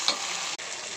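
Shallots, curry leaves, fenugreek, cumin and broad beans fry for sambar, making a steady, close hiss of oil with one brief dropout.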